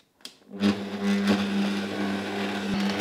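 A stand mixer fitted with a dough hook kneads brioche dough, a steady motor whir and hum with a faint rhythmic rattle, running close and continuous after a brief start.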